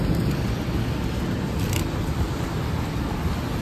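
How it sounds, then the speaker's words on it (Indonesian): Heavy rain during a downpour at Gardens by the Bay in Singapore, a dense, loud, continuous broadband wash with no breaks and no talk. "Wah, hujannya gede."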